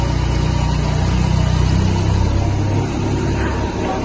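A car engine hums steadily from inside the cabin while driving, a low continuous drone with a slight rise and fall, with no talking.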